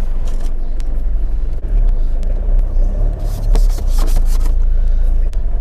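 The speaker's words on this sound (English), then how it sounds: "let's go for a drive." A smoky four-wheel-drive with no four-wheel-drive light working pulls away, its engine giving a steady low rumble with rattling and rubbing noises throughout, loud and close, from inside the cabin.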